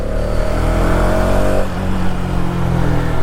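Hero Xtreme 250R motorcycle with a 250cc engine being ridden in third gear, a steady close engine drone with wind rush and a slight pitch drop partway through.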